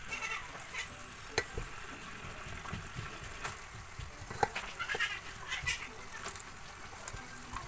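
Glutinous rice (malagkit) being stirred in a pan while cooking, giving soft scraping and faint sizzling with scattered light clicks of the utensil, close and fairly quiet.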